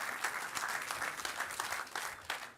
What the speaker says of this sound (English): A round of applause for Ricardo and Thomas